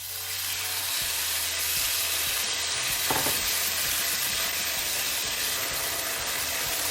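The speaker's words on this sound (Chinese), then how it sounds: "现在锅中倒一些油，咱们将腌好的猪肉倒进去" Marinated pork sizzling in hot oil in a wok for a pepper and pork stir-fry, a steady loud frying hiss with light scraping and stirring throughout.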